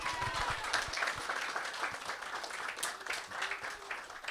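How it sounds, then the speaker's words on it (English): An audience at a Sunday feast festival gathering breaks into a round of applause, with dense steady clapping from a crowd in a hall that carries on throughout at moderate loudness. "I think a big round of applause."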